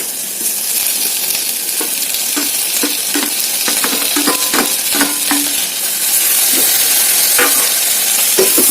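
Tomatoes drop into onions frying in a pan, giving a steady close sizzle with repeated scraping stir strokes and spoon clinks throughout, the frying hiss swelling louder near the end; no one speaks.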